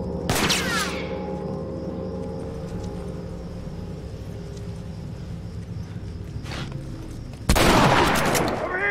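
Gunfire in the video game The Last of Us: a sharp shot opens, a quieter shot comes midway and a loud burst closes it, all over a steady game ambience.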